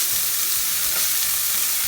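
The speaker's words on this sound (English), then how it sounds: "It took me around 4 minutes to saute the onions" Onions sauté in a pan with a loud, constant hiss of frying and a few soft stirring scrapes underneath, no talking.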